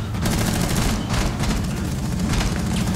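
Dense, continuous gunfire from a Rainbow Six Siege firefight, rapid shots blurring into a loud sustained rattle with booming low end throughout.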